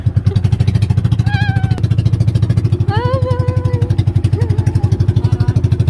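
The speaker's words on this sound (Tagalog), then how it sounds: "Yung motor." A motorcycle engine running close by with a steady, rapid idle thump throughout, with brief voices and whistling tones over it.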